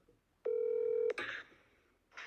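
Classic telephone ringtone on a phone call, a single sustained electronic tone lasting about half a second, then clicks and a brief burst of line noise, clear and close with no talking.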